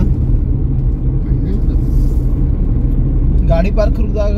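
Steady low car engine rumble from inside a moving car on the way to Devgad, continuous throughout, with people talking over it.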